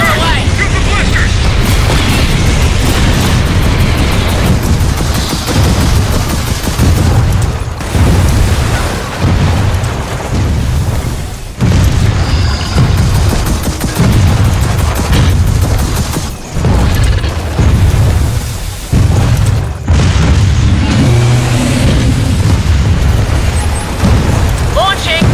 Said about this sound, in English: Rockets outgoing. Missiles on the way.